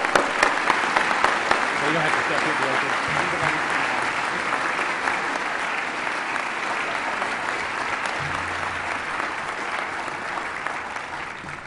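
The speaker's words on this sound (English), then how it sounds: "I just want to give them a big round of applause." Sustained audience applause fills a February 2013 Forum Club event, dense and loud at first and gradually thinning, with someone speaking briefly over the clapping.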